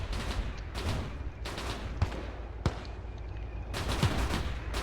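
Rifle and machine-gun fire crackles through barbed wire during a winter trench defence in Arma 3 with Iron Front USSR. Repeated bursts come with sharp single cracks between them, mid-distance and fairly loud.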